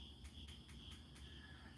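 Crickets chirp in a steady, regular pulse of short bright trills over a low background hum, quiet and unbroken with no voices.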